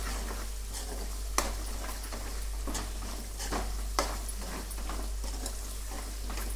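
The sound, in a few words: tempering sizzling for gongura chutney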